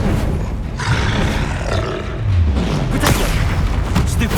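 A Confringo fire spell blasts off in the video game Hogwarts Legacy, a loud roaring, booming burst that fills the scene and then a second whooshing surge, with no voices over it.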